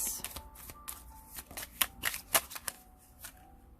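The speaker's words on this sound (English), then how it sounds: "These mini decks are hard to shuffle" A mini deck of cards being shuffled by hand in a quiet room, a quick run of crisp riffles and flicks with irregular bursts, fairly close and alone.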